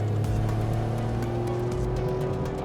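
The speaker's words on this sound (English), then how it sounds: "It has now got stuck on the rev limiter and it will not upshift by itself" A Maruti Suzuki Dzire AMT engine is held in second gear against the rev limiter, giving a loud, steady high-rpm drone with a rapid stuttering pulse from the limiter cutting in and out, heard alone.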